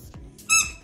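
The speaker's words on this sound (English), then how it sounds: "This one squeaks too." A squeaky dog toy with a rope lets out one short, sharp, high squeak near the end, close and loud after a few quiet rustles.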